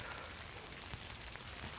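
Steady rain falls on a rainy morning, a dense, even hiss of drops hitting surfaces with no voices and no pauses.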